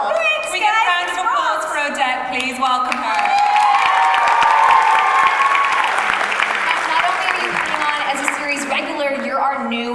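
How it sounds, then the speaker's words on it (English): A big crowd at a Supergirl panel at San Diego Comic-Con 2017 applauds steadily for the full stretch, the clapping loud and close. Cheers and a few whoops rise through it. "we get a round of applause for Odette, please"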